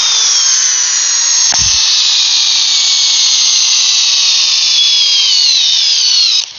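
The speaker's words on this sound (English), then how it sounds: "Brand new Cobalt brushless drill driver. Model number on this is KDD1248-03." A brand-new Kobalt KDD1248-03 brushless drill driver on a fully charged 2-amp-hour battery spins up to a loud, steady high-pitched whine with a short clunk near the start, holding for several seconds before stopping abruptly.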